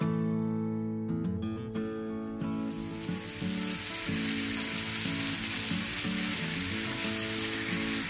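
Marinated chicken frying in oil over a medium flame, starting with a few clinks and stirs before a loud, steady, close sizzle fills the rest without any talking.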